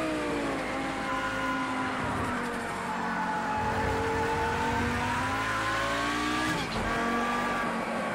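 A five-cylinder car engine in a video game drones steadily with a rising and falling rumbling tone under load, with a brief dip near the end.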